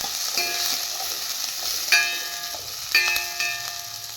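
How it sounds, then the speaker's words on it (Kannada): Curry leaves crackle and sputter in hot oil with mustard seeds for a village-style pepper rasam, a steady close sizzle broken by a few sharp popping bursts, with no talking. "ಇದೀಗ ಕರಿ ಲೀವ್ಸ್ ಆ್ಯಡ್ ಮಾಡ್ಕೊಳ್ಳಿ. ಬ್ರೌನಿಶ್ ಬರೋವರೆಗೂ ಆಯಿಲಲ್ಲಿ ಫ್ರೈ ಮಾಡ್ಕೊಳ್ಳಿ."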